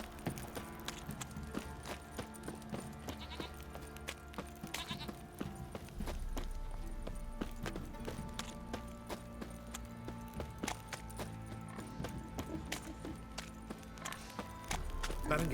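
Hooves clip-clop in The Witcher 3 amid layered game sounds, with animal bleats and a low rumble mixed in, the steps repeating steadily and moderately loud across the scene.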